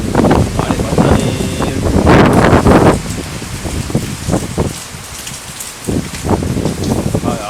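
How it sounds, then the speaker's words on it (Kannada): Strong wind gusting outdoors with rain falling, loud roaring buffets and wind noise on the microphone, some rain patter. "ಒಟ್ರಾಸಿ ಗಾಳಿ ಬರ್ತುಂಟು"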